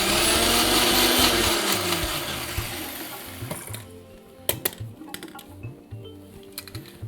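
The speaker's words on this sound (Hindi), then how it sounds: "ये चटनी आप चाहें तो इसको थोड़ा सा कोर्स यानी कि दरदरा पीसें" A mixer grinder whirs loudly as it grinds chutney for about three and a half seconds, then cuts off, leaving scattered knocks and clatter of the jar.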